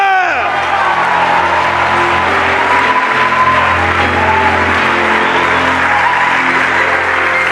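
A church congregation applauding and cheering, loud and dense clapping with whoops and crowd voices that fill the whole stretch without letting up.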